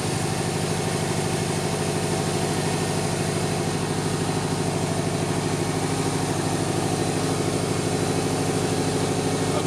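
A freshly rebuilt Subaru Impreza WRX STi engine running smoothly at steady idle, an even, close, continuous low throb with a fine regular pulse and no voices.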